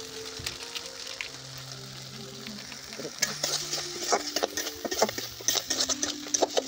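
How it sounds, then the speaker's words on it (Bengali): Kashmiri chilli, cumin and coriander powders are sautéed in a pan for a Foli fish curry, giving a crackling sizzle with sharp spits and stirring taps that grow busier under someone talking. "এই সমস্ত প্রকার গুঁড়ো মুড়ো দিয়ে ভালো করে কষিয়ে নিন।"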